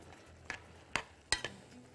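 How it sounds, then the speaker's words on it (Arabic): Camel meat sits in a pot and is being salted and stirred, heard as a faint low simmer broken by four or five sharp spoon-against-pot clinks and scrapes spread over a couple of seconds. "هنملح بقى التمليحه بتاعتنا. تمام، خلاص ما دام بدانا نستوي نملح ونقلب نقلب نقلب"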